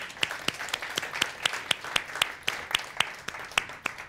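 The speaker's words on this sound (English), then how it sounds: "Give a round, big round of applause." Audience at a math lecture applauding, a steady run of evenly spaced claps from a modest crowd, moderately loud with no talking over it.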